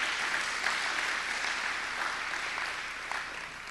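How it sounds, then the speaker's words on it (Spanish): A church congregation claps together for the Lord, a sustained wash of applause at moderate volume that gradually tapers near the end. "démosle ese fuerte aplauso al Señor"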